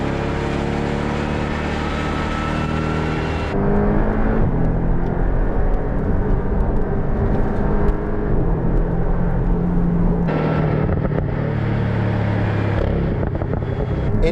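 A Porsche 718 Boxster S pulls hard in second gear, its turbocharged engine droning loudly with a rising harmonic pitch, then a sharp shift-like break and renewed engine note, all heard from inside the car without speech.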